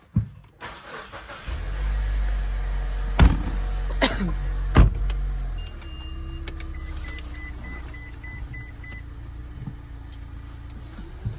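A 2016–2023 Mazda CX-9 with newly replaced rear brake rotors starts up: a starter crank, the engine catching and idling steadily, a few clicks and thumps, then chimes and dashboard beeps as the idle settles quieter.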